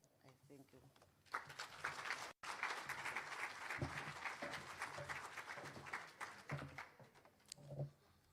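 Audience applause at an academic colloquium honouring a professor, a fairly faint, spread-out patter of clapping that rises, holds for several seconds and tapers, with voices talking over it.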